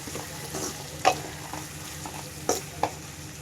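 Eggplant frying in a pan with a pinch of turmeric, giving a soft steady sizzle with a few sharp stirring scrapes and clinks standing out above it.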